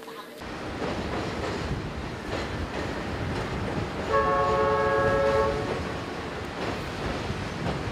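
A train crosses the Dandong–Sinuiju railway bridge between China and North Korea, a steady loud rumble of wheels and cars throughout, with a brief horn blast in the middle.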